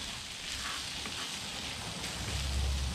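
Small pieces of fish simmer in a pan over an open fire, giving a steady, soft sizzle and bubbling hiss at low level throughout, with a slight swell near the end.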